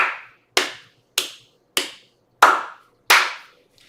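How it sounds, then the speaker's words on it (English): Six sharp synthetic drum-machine claps, evenly spaced about every 0.6 seconds, each a bright crisp burst with a short decaying tail, loud and dry with silence between hits. "So let me try some claps."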